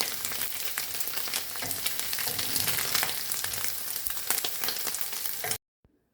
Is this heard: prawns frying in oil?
yes